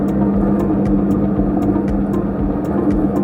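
A 3-spindle 20-inch SMARTWIND 360° wound filter cartridge winding machine runs with its wheel moving, giving a loud, steady mechanical hum with regular sharp ticks about every half second.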